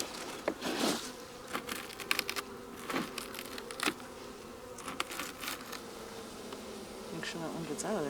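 Honeybees buzz steadily while being installed into a hive beside a greenhouse, a close swarm hum with individual bees darting past in brief louder passes; no one speaks.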